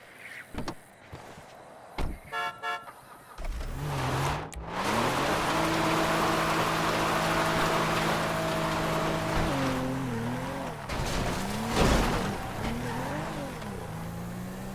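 Car driven in GTA 5 toward Paleto Bay: a steady engine drone with a sustained hum holds from about four seconds on, following scattered short clicks and thumps, with a brief rise near the end.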